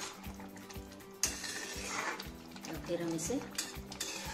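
A spoon stirs boiled green rice in a pot, making light scraping clinks and clattering against the metal, with a voice speaking briefly over the quiet stirring.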